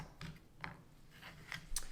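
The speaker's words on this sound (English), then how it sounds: "you wanna cut off the end up to the point where you see this dryness" A knife cuts through the dry, woody ends of asparagus spears, giving a few soft, close crunching snips spaced unevenly over a quiet kitchen background.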